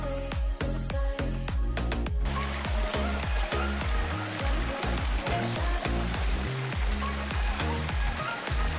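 Tatiguda waterfall in Araku Valley roars as a dense, continuous rush of falling water, loud and close, with a few sharper clicks and knocks near the start and no talking.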